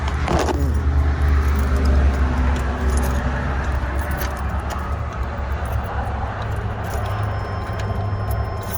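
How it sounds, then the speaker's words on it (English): A large GMT-400 Chevrolet/GMC truck engine turns over and settles into a steady, loud rumbling idle close by, with a brief jangle of keys near the start. "Let's check on the truck, make sure it will start."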